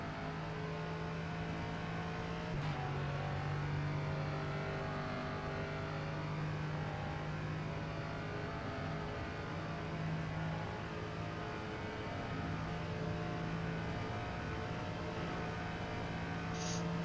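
A Ligier JS P320 LMP3 race car engine, simulated in rFactor 2 at Daytona, holds a steady, sustained drone with one brief shift early on, running alone without voices.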